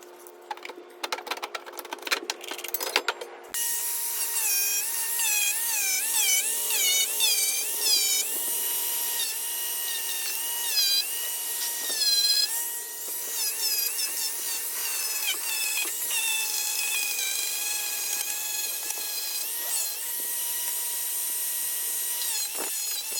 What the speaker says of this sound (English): Take the piece back off and then start grinding away.